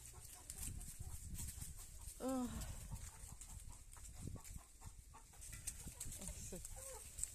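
Farm chickens cluck and squawk around a rural yard, with one louder call standing out midway, under faint background noise and occasional voices.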